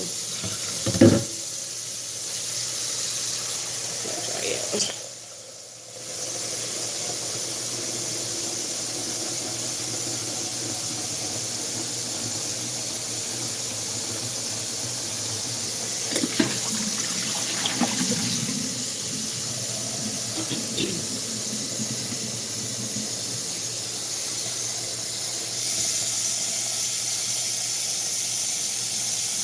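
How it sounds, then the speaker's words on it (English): Hot water runs from a kitchen tap into a pot coated with leftover candy-apple mixture, a steady hiss of flowing water filling the scene with a few clinks and a short pause near the start; a voice speaks briefly. "I'm going to run some hot water in the pot and put it back on low heat."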